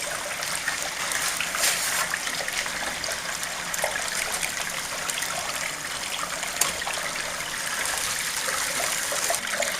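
Water and gravel rush steadily through a gold sluice at a fine-gold cleanup station, a constant close wash with scattered gritty spatters and no talk.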